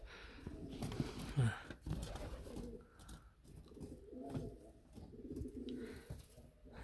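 Pigeons coo softly and repeatedly close by, low throaty rolling calls in a loose rhythm, with some rustling and quiet background noise.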